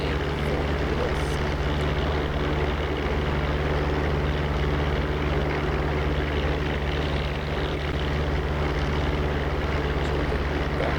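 A WWII warbird propeller aircraft in the DCS flight simulator, approaching Gravesend airfield to land after an overhead break, its engine a steady loud droning roar with an even propeller hum throughout, no voices.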